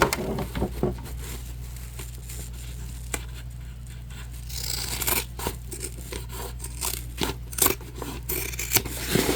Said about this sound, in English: for this one we will cut off our excess material